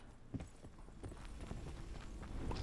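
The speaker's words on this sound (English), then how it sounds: "I'm hearing his footsteps behind me" A teammate's footsteps sound behind the player in Call of Duty Blackout, a series of irregular soft thumping steps close by against a low game background, with no talk.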